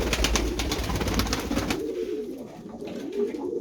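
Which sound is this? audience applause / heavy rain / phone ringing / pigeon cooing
pigeon cooing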